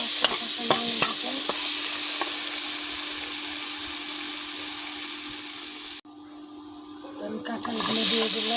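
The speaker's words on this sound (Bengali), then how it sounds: "দুটো তেজপাতা দিয়ে দিলাম, দিয়ে আবার ভালো করে নেড়ে দিলাম" Spice paste with two bay leaves sizzles in a pan while being stirred for a jackfruit curry; a dense steady hiss with quick scraping taps dips sharply quieter, then rises into a louder burst.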